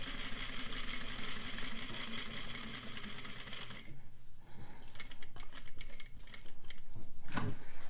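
A sewing machine stitches fabric in a loud continuous whir that drops to a softer, clicking rhythm midway, then picks up again with a brief clunk near the end.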